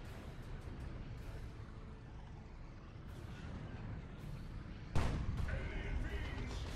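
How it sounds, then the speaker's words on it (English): Tank cannon fire in a Dawn of War 2: Retribution 2v2 battle, with a loud sudden boom near the end after a stretch of rumbling combat noise and distant blasts. "Tank getting shots off. There's the big boom shot."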